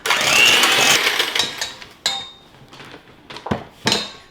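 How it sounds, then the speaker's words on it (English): An electric hand mixer beats chicken eggs in a bowl, harsh whirring bursts with metallic clatter of beaters against the bowl, loud at first then breaking into shorter intermittent spurts. "My mixer sounds like she's about to go."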